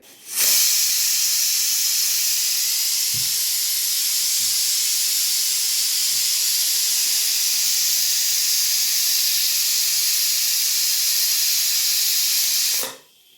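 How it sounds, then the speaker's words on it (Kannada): Steam jets loudly and steadily from a pressure cooker on a gas stove cooking fenugreek leaf palya, a continuous close hiss that starts abruptly and cuts off after about twelve seconds, with a few faint knocks underneath and no talking. "ಕುಕ್ಕರ್ ಮುಚ್ಚಿ ಮೂರು ಸೀಟಿ ಹೊಡಿಸ್ತೀನಿ ರೀ"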